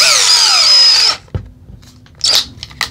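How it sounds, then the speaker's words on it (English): Power drill fitted with a very small drill bit, whining at high pitch for about a second and then stopping, followed by a clunk and a brief squeal, with no voices. "Very small drill bits. Don't do too well in the drill."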